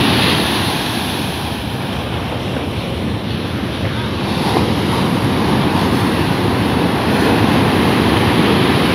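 Surf washing continuously onto the beach at Watu Klotok in Klungkung, Bali, a steady broadband roar of breaking waves mixed with wind buffeting the microphone, with no voices.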